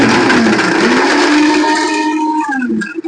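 A kitchen blender whirs loudly while chopping potato, onion and carrot, its motor pitch wavering and dropping as it labours near the end.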